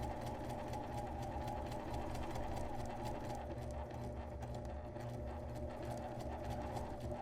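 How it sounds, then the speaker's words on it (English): A sewing machine stitches steadily along the curved outer edge of a fabric face mask, its fast rapid clatter running continuously and close at a quiet, even level with no talk. "we're going to go ahead and sew along this outside edge from the point around the curve all the way to the other point"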